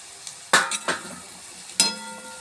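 Torn parotta for kothu parotta stirred in a hot frying pan, with a few sharp scrapes of a spatula on metal over a soft sizzle, close and clear, with no talking.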